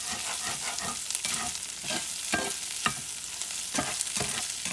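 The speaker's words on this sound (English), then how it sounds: "now we're going to start blending that in and letting it cook with that sausage" Sausage fries and sizzles in a pan while being stirred, with scraping spoon strokes every second or so over a steady close crackle.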